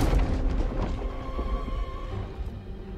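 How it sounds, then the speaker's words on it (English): Flaming trebuchet rounds burst among troops in the Total War: Three Kingdoms strategy game, a continuous low rumbling boom of explosions and battle noise at moderate level. "Trebuchet sending those flammable rounds up."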